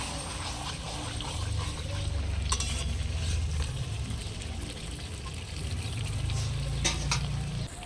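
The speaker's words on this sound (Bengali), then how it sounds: "মাংসটা কিন্তু আমি ভালোভাবে কষিয়ে নিচ্ছি" Goat meat sizzles and spits in a hot pan while a spoon stirs and scrapes it, a steady close frying hiss with occasional sharper clatters, no voices.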